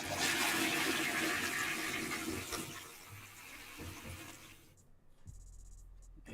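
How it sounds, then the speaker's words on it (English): A toilet flushes with a loud, rushing surge of water that slowly fades into trickling refill, then quiets near the end. "Put it in the toilet and flush it."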